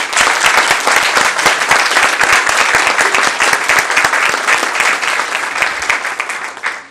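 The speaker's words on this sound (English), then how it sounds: "Can we all give Ms. Campbell another round of applause, please?" A crowd applauds at a county school board meeting with dense, steady clapping that stays loud throughout, then tapers slightly at the very end.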